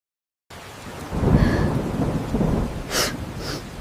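Rain with thunder: after a short silence a deep rolling rumble swells over steady rainfall and then fades, and a couple of sharper crackles follow near the end.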